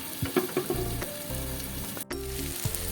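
Dal and potatoes fry in a hot pan, a loud, close sizzle broken by scraping stirs of a spoon against the pan.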